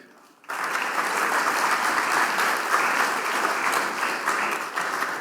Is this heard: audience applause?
yes